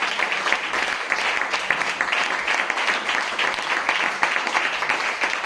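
A church congregation applauds in sustained, dense clapping that fills the whole stretch at a steady, lively level, with faint voices mixed in.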